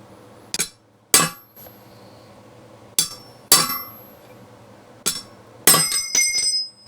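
A hammer taps a new bearing race into a Hendrickson Intraax semi trailer axle, delivering sharp metallic clinks in irregular pairs, loud and close, with a brief ringing tail after each strike.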